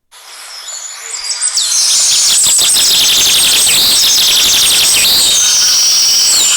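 Birds sing and chirp in rural countryside, a dense, bright chorus of overlapping trills and high calls that swells in over the first two seconds and then stays loud and continuous.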